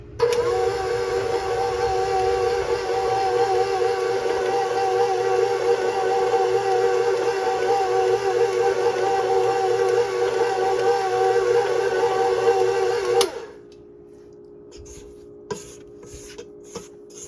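An electric mixer whirs steadily in a bowl for about thirteen seconds with a loud, even whine, then shuts off, leaving a few faint clicks and knocks.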